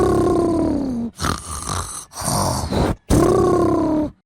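Deep, rasping snores repeat in a slow rhythm, each long throaty breath broken by brief pauses.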